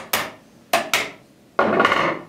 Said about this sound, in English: If it's tight, just use a hammer.